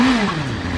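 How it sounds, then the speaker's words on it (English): A BMW M1000RR superbike engine giving a quick blip of revs, a short loud close burst whose pitch climbs then falls away within a second. "I'll give you a little baby revs here since it's settling down."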